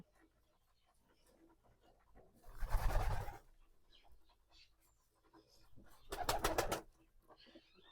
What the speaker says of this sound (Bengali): আর দেখেন সবগুলো কবুতর